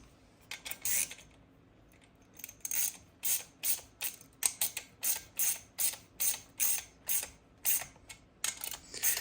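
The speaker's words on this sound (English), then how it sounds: "just hold your wrench and snug them up" A wrench ratchets in a steady series of sharp, close clicking bursts while snugging the clutch bolts on a Zenoah G320 engine, with brief pauses between runs of clicks.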